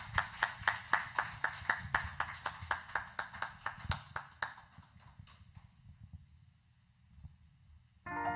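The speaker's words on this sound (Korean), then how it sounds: "우리 박수로 하나님께 영광 돌리시겠습니다." A church congregation at a Thanksgiving Sunday service claps hands in unison in praise, a steady run of rhythmic claps that stops about halfway through and leaves a quiet room.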